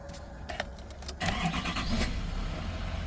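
A car engine cranks and catches after the fuel pump primes the system for a cylinder 6 misfire repair, a brief jangle and clicks giving way to a loud start that settles into a steady close idle.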